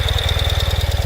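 A 2020 Ural Gear Up motorcycle in red and black idles with a loud, steady, rapid low thumping pulse, close up and alone with no voices.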